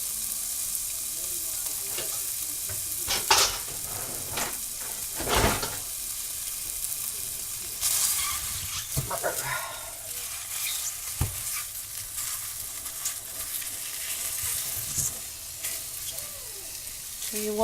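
Sausage from a 2.5-pound roll browns in a pan for sausage gravy, a steady close sizzle and hiss with scraping stirs and clanks as it is broken up.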